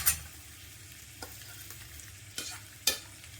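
Green chilies fry in a kadai for a dhaba-style Afghani egg curry, giving a steady soft sizzle with a few sharp stirring scrapes and clicks near the start, middle and end.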